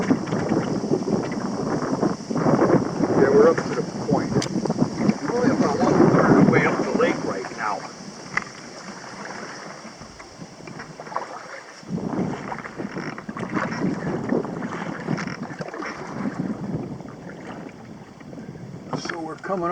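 Gusty wind buffets the microphone while paddling a canoe or kayak on a lake, a loud continuous rumble with water lapping and paddle splashes, easing briefly midway before returning.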